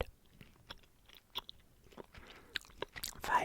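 Gum, likely peppermint, being chewed up close: soft wet smacks and crisp biting crunches come in an irregular rhythm, quiet overall with a few sharper clicks near the end.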